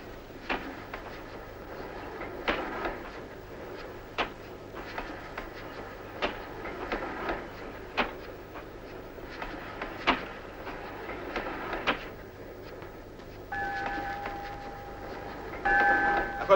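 A train in a Russian historical film scene, rhythmic clickety-clack of wheels on rail joints repeating steadily at moderate distance, with a sustained bell-like tone entering near the end, no speech.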